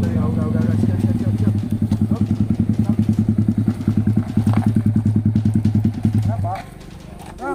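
A motorcycle engine idles close by with a rapid, loud, steady chugging pulse for several seconds before it cuts off. Voices talk beside it on a roadside.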